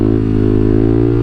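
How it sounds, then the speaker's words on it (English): A Kawasaki KLX300SM motorcycle engine held at high steady revs while popping a wheelie in second gear, a loud, close, sustained single-cylinder drone with no voices. "I'm going to pop a wheelie."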